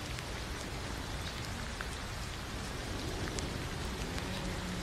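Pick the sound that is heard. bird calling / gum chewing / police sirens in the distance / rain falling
rain falling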